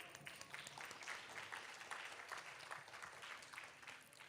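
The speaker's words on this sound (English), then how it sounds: "I think they deserve another round of applause here." Applause from the audience at a Bharatanatyam arangetram dance debut, a soft, distant, continuous patter of many hands clapping at a low, even level.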